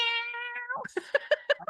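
A person imitates a cat's meow: one long drawn-out mew followed by a quick run of short, clipped meows, fairly quiet.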